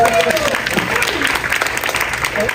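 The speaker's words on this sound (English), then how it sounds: "Let's give them a round of applause." Keynote audience at a play-studies conference breaking into applause, a steady patter of clapping from a room of listeners, with voices audible over it.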